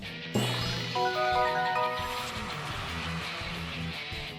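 Garbled, distorted menu music from the Excite Truck video game running on the Dolphin emulator: tinkly chiming tones over a smeared, crackly buzzing background, steady and fairly quiet.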